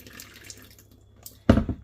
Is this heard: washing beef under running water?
yes